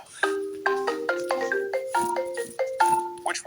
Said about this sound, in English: Marimba.